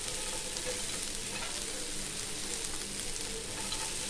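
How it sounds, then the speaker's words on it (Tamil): Wheat rava dosa batter sprinkled with onion sizzles and crackles on a hot pan, a steady, close frying hiss that fills the whole stretch without any voices. "அடுத்த தோசையை ஊற்றிக்கலாங்க"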